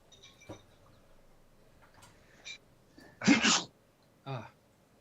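A single loud sneeze bursts out near the mic amid a quiet room, with a few faint small sounds and a short vocal noise after it.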